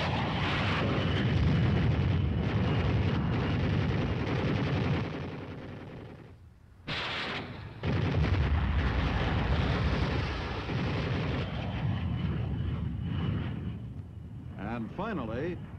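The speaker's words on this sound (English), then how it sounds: "The next flight uses machine guns and rockets." Military aircraft strafing with machine guns and rockets, a dense, loud roar of gunfire and blasts that runs almost continuously and breaks off briefly midway, with a narrator's voice over it.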